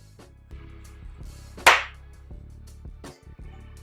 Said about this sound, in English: I should probably clap, right? So I can sync up the audio